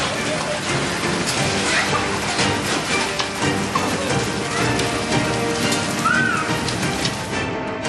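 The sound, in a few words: rain and hail falling in Rampurhat, Birbhum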